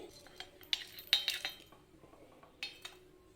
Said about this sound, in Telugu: ఇప్పుడు ఒక చిన్న రోకలి తీసుకొని ఇందులోకి ఒక ఐదారు మిరియాలు ఒక రెండు మూడు వరకు ఇలాచీలను వేసుకోవాలి